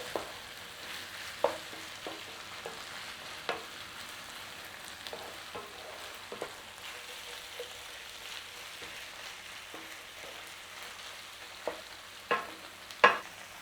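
Beef filling for a New Zealand beef and cheese pie fries softly in a pan. A quiet, continuous sizzle is broken by occasional sharp scrapes and taps as a utensil gently stirs it.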